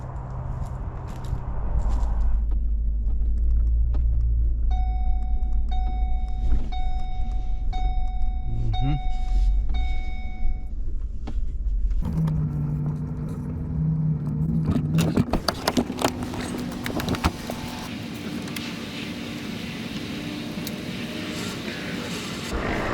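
A truck engine strains steadily while pulling down a tree with a line, a low, continuous drone over scraping and clinking, with someone talking briefly partway through.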